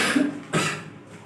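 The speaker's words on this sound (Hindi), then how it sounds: "खांसी बहुत ज्यादा आ रहा है।" A person coughs twice in quick succession, short harsh bursts close to the microphone, with nothing else audible around them.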